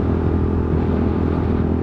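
A motorbike engine drones steadily on a road between Varanasi and Lucknow, a constant low rumble close by with no voices.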